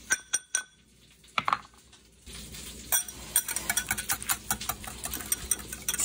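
Fork or whisk stirring mayonnaise in a bowl while cooking artichokes: a few sharp taps, then a quick run of rhythmic clinking scrapes against the bowl, close and fairly quiet with no talk.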